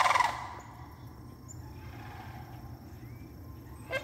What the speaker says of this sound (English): A wonderful song with the sandhill cranes, you say.